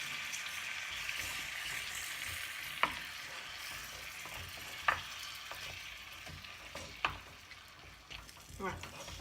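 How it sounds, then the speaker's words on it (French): A chocolate cake mixture sizzles steadily in a pan over lowered heat, with a few sharp scraping stirs at intervals and a faint voice in the background. "Tout est en train de se remuer."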